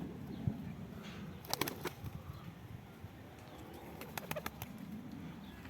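Konya Arabı pigeons take off in two quick bursts of sharp wing flapping, close by, over a faint, quiet outdoor background with soft bird sounds and no talk.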